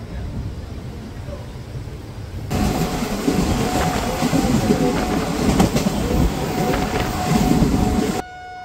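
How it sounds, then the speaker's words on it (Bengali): A Kolkata–Digha special passenger train runs near Uluberia, its steady rumble and rattling wheels loud and continuous from inside the carriage after a quieter start, ending abruptly. "এই আমাদের ট্রেন উলবেড়িয়া ক্রস করছে।"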